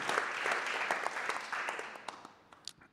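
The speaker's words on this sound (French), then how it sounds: "Vous pouvez vous applaudir." An audience at a French round-table discussion on social ties bursts into steady, dense applause from many hands, then tapers to scattered claps.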